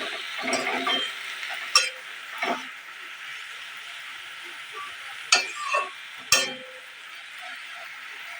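Ghatkol greens stirred and fried in a pan with turmeric, giving a steady soft sizzle throughout with a few sharp utensil scrapes and clinks against the pan.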